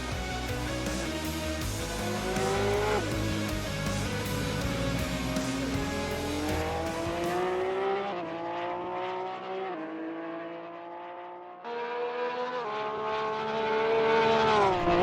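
Race cars lapping Road Atlanta in Assetto Corsa endurance qualifying, engines whining through rising and falling gear changes, one car dominant and close with others behind, continuous and fairly loud with no talk.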